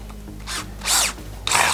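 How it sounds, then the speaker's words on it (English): A drill biting into a stainless steel rivet on a Ford RS200 tub build, giving three short, harsh metallic screeches separated by brief pauses, close and bright. "you get that peculiar kind of metallic screech with stainless, and if you're not careful and you drill too fast"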